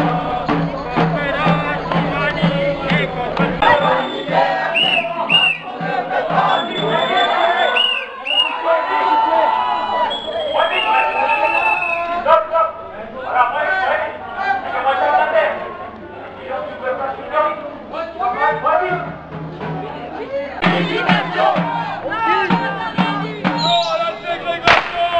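A crowd of about 100 to 150 people mills about at a Saturday street demonstration in Chaumont, with dense overlapping chatter and murmuring close by and a few louder calls rising from the babble.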